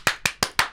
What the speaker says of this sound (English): That's enough applause.